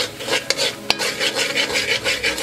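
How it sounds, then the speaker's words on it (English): Curry shrimp is stirred steadily in a pot over a low stove, a close, loud, rhythmic rasping scrape as the spoon drags across the bottom, with a couple of sharper knocks against the pot. "You keep stirring so it's not going to burn."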